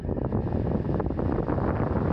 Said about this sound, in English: it's not until I turn it about halfway that I start to hear the motor and I start to feel something